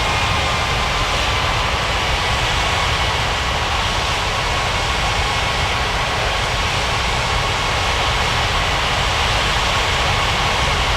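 An airliner taxiing to the runway in an air traffic control game, heard as a loud, steady broadband jet engine roar that holds constant throughout with no pauses or talk.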